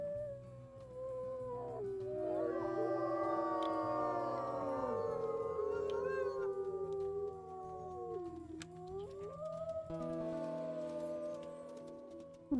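A wolf howls in the video game WolfQuest, a long, wavering, rising and falling cry with layered harmonic tones that holds for several seconds, then trails off before a second, shorter howl, faint and clear with no talking.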